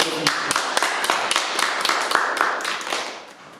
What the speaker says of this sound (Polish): I dziękuję i wielkie brawa dla